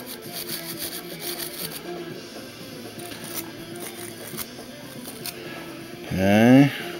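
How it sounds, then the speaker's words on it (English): Quick scratchy bristle strokes of a stainless steel brush scrubbing brass residue from an M-15 rifle bolt face, a close rhythmic rasping, with someone speaking briefly at the end. "when I clean the bolt face, I usually use this stainless steel brush because it works better to get all the brass out"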